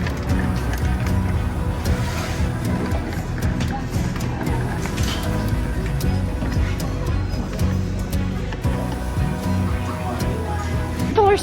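Steady highway traffic roars beside a parking lot, a continuous broad rumble and hiss with no clear gaps, heard under people talking nearby.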